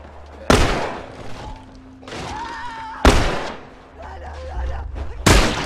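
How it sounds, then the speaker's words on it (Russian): Three loud, sharp gunshots spaced a few seconds apart in The Last of Us, each with a short decaying tail, and someone talking between them. "Ты же видел, как я выстрелил"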